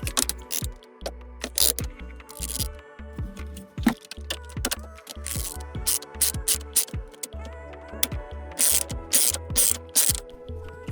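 A ratchet clicks in quick bursts while retainer screws are backed out of the plastic trim on a GM Buick steering column during an ignition lock cylinder job, with metallic taps and handling noises between the runs of clicks.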